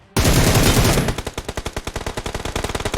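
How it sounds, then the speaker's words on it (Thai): Automatic weapon fire in the PUBG Mobile battle royale game: a loud continuous burst followed by a rapid string of about twenty evenly spaced close shots. "นั่นยิงอะไรตรงไหน"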